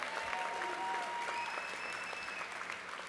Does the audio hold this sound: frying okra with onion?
no